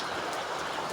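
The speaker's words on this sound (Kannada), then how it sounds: "ಮಳೆ ಬರ್ತೈತೆ" Steady rain falls over open farmland, a continuous broadband hiss of drops with no breaks, fairly soft and even throughout with no voices.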